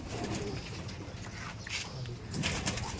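Pigeons coo steadily at a loft housing quality male and female birds, low murmuring calls overlapping through the whole stretch with faint flutters and background bustle, moderately close.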